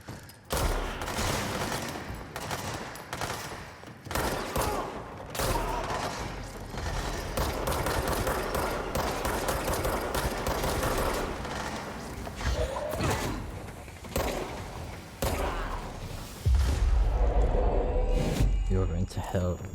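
Gunfire in the video game Control, rapid bursts of shots and heavy thuds packed densely together, loud and continuous, with a voice talking over the action throughout.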